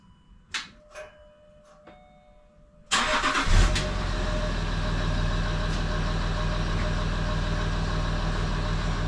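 Land Rover Discovery 3 with a low battery and a parking brake fault: after a few faint clicks, the engine cranks and catches with a loud burst, then settles into a steady, close idle.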